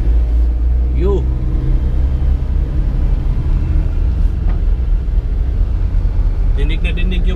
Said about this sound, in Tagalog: Dinig na dinig nyo ba mga kamotmot yung ugong ng ating sasakyan?